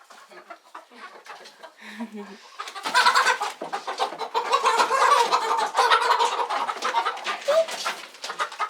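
Chickens, dark brown and light brown birds, cluck and squawk loudly and continuously as they are captured on a farm, a burst of agitated fowl noise rising midway; a person talks briefly near the start.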